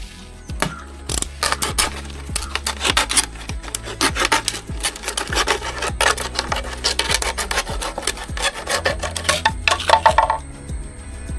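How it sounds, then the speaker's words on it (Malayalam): A plastic bottle is cut with a steady run of rapid rasping, scraping strokes for over ten seconds, close and fairly loud with no talking. "കുപ്പിയുടെ ഈ പോർഷൻ നമുക്കൊന്ന് കട്ട് ചെയ്തെടുക്കണം."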